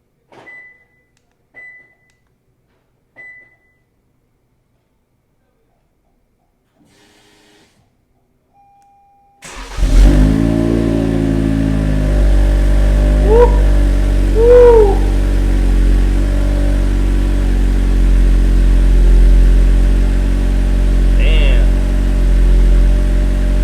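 A few short electronic beeps, then a Toyota Camry XSE engine fires up and settles into a deep, throaty exhaust rumble through TRD mufflers, heard from behind the car, with a couple of blips of revving.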